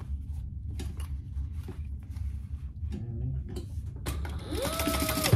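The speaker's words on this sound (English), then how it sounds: "Fold the seam allowance to the bottom and top stitch." A sewing machine top stitches a seam on a fabric bag, a low steady whir at first, then a louder, faster mechanical run toward the end, close by.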